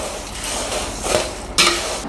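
Flattened-rice snack mixture tossed with chilli powder and salt in a bowl, a steady dry crunchy rustle with a couple of louder scraping tosses near the end.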